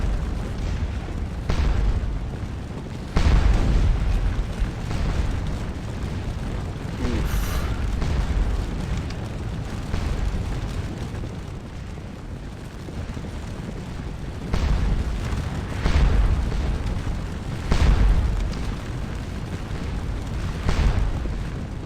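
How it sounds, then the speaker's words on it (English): Cannon fire at a battle reenactment, several heavy booms spaced a few seconds apart over a constant roaring rumble of wind and crowd, fairly close and loud, without talk. "Somebody's cannon is right up in their face."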